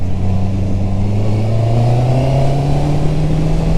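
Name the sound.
Honda CB650R four-cylinder motorcycle accelerating at full throttle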